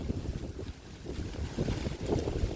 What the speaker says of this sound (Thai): นี่ลมมาแล้วครับ ลมมาแล้ว